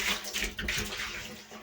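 Water splashes and sloshes inside a water tank as its interior is washed out, a close, continuous rush with reverberant, hollow splashing and no speech.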